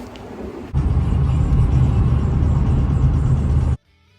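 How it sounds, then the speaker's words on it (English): A car engine cranks and fires up, settling into a loud, steady running rumble for about three seconds before cutting off abruptly. "I'm going to start the car up before everyone gets in."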